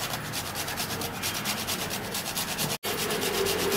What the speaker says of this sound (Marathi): जायफळ घालते किसून.